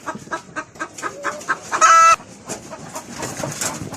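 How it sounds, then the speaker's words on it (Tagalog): A native free-range laying hen near her eggs gives a quick run of close, repeated clucks with one louder drawn-out squawk in the middle, and no voices over it. "Native chicken na nangingitlog."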